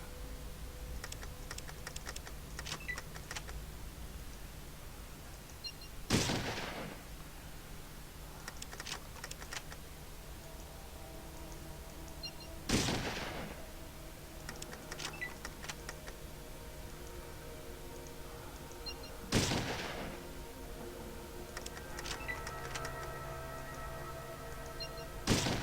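Gunfire aimed at a Robo-Brain in the video game Fallout, with four sharp, evenly spaced blasts over continuous rapid keyboard typing.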